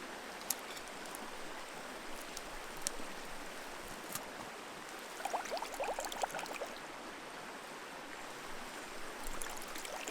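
A river flows steadily in an outdoor wilderness setting on a sunny day, a constant broad rushing wash with a few faint clicks and splashes near the recorder.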